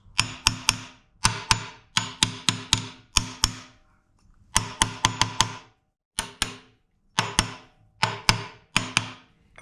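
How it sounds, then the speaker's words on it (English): Hammer on a Chevy 5.3 engine seating the rear main seal, struck in quick bursts of several sharp, close metallic taps separated by brief pauses. "Just give it a couple more taps."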